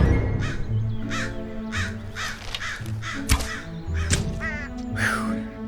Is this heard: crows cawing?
yes